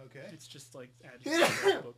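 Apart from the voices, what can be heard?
sneeze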